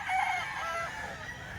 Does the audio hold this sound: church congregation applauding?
no